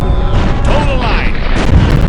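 Heavy, continuous rumbling booms from ships firing cannons in the 2005 PC game Empire Earth II, loud and dense, with a brief voiced command over the din.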